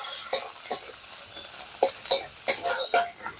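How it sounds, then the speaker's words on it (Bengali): Chopped onion sizzles in hot oil in a pan while being stirred, with several distinct scraping strokes over a soft, close frying hiss, no voices. "তেল গরম হয়ে গেছে, দিয়ে দিচ্ছি পেঁয়াজ কুচি। পেঁয়াজটাকে প্রথমে একটু ভেজে নেব।"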